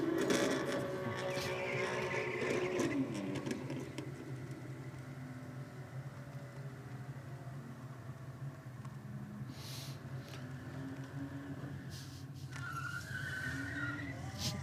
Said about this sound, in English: The Holden ripping it up in the Burnout